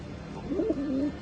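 Pakistani teddy pigeons cooing close by, one short soft rolling coo rising and falling over a low background hum.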